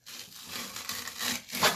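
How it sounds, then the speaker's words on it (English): A sharp fillet knife slides along the skin of a walleye, giving soft rasping, scraping strokes that rise and fall in short passes, close and fairly quiet with no talk. "Go down to the skin. Now watch with a good knife here."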